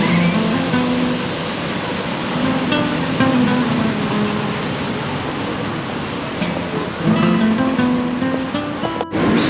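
Gentle waves wash continuously onto a calm, rocky-cove beach at Playa Troya in Tenerife, a loud, steady surf wash with a faint murmur of distant activity and no clear speech.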